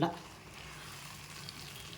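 Tamarind greens thokku frying and being stirred in a pan, a steady low sizzle running throughout with soft scraping, after a brief voice at the very start.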